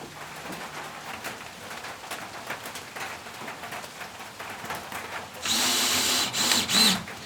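Power drill backing screws out of a wooden beam on a forest treehouse cabin build, a loud close whirring burst near the end after a stretch of light rain-like patter and faint handling noise.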